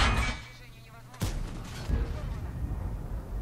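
One heavy tank cannon blast from an M6 firing a high-explosive shell in World of Tanks booms out, followed by a rumbling echo and softer battlefield noise.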